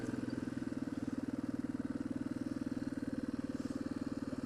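A Yamaha XT225 motorcycle engine runs steadily and close by, a constant low throbbing pulse with a fast even rhythm throughout, with no talk over it.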